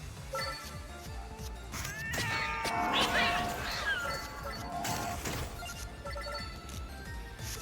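Cats meow in the video game Vampire Crawlers, several overlapping cries rising over busy game music and effects, fairly loud throughout the mix.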